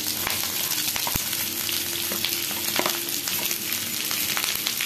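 Potatoes fry with softened onions in a pan, giving a dense continuous sizzle with a few sharp ticks of a stirring utensil, close up and without speech.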